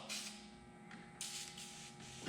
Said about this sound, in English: Just take the battery cleaner and pretty much just spray it down, the corrosion, and it will bubble up.